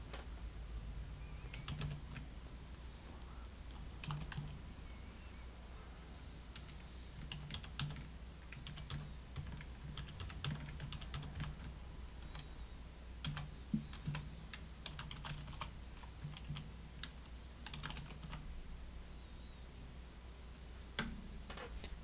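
Steady close typing on a computer keyboard, irregular clusters of light clicks and key taps over a faint constant hum, with no talking.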